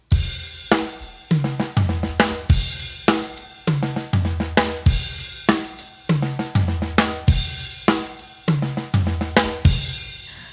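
At a faster tempo, a drum kit plays a 16th-note accent fill, with punchy accented drum and cymbal strikes recurring in a steady cycle over quicker in-between strokes. The kit is close and loud, with no voices.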